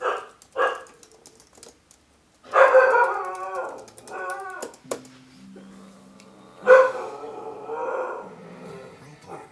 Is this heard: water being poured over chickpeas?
no